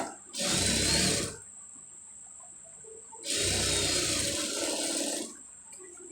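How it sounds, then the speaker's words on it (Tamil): Sewing machine stitching a blouse sleeve joint, two close bursts of steady whirring motor drone, each about a second or two long, separated by a quiet pause, with no talking. "இதில் வந்து ஒரு தையல் போட்டுருங்க"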